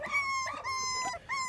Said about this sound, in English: Listen to the puppies.